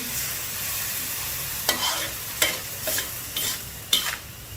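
Cabbage and glass noodles are stir-fried in a large wok. A constant sizzle runs underneath while a spatula scrapes and tosses the food in five distinct, evenly spaced strokes.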